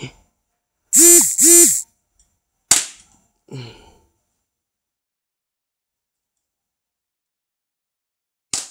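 A G.20 airsoft pistol with a steel inner barrel fires two sharp, loud shots in quick succession, then one more crack and a fainter click, followed by a long silence and a final sharp snap at the end.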